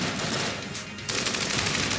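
Rapid gunfire from a weapon in the video game Enter the Gungeon rattles in a dense burst, briefly dipping before a louder second volley, close and harsh.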